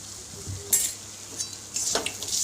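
Ground turmeric, chili powder, cumin and salt frying in a pan for a Bengali fish curry, a steady close sizzle with a few sharp scraping stirs and one brief clatter, and no voice.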